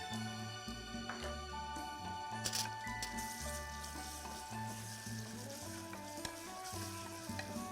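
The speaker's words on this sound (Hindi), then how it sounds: "जब तक प्याज फ्राई हो रही है" Onions fry in a pan with a constant crackling sizzle and occasional stirring, under background music.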